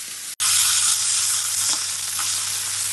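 Beef steaks, côte de boeuf and sirloin, sizzle loudly in a pan with excess oil, a dense steady hiss that begins suddenly after a brief pause and holds without letting up.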